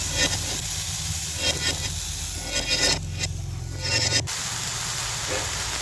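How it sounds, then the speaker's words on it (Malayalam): Chopped brinjal frying in spiced oil in a pan, a steady close sizzle with scraping and stirring throughout, briefly softening midway before picking back up. "നമ്മൾ അരിഞ്ഞു വെച്ചേക്കുന്ന നമ്മുടെ വഴുതനങ്ങ അതിലേക്ക് ഇട്ട് കൊടുക്കുക"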